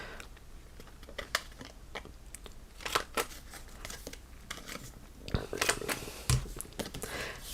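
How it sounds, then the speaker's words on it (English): A corner punch chomps paper corners in a craft room, giving a series of sharp, close clicks and crunches at irregular intervals amid faint paper handling and rustling. "So that's what that punch does, is it just chomps the corners."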